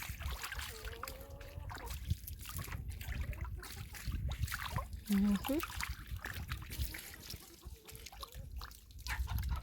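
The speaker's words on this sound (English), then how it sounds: "I'm just going to use this water here to just kind of wash them off" Water trickles and splashes while freshly processed turkeys are rinsed off outdoors, an uneven pouring and dribbling close by, with people talking over it.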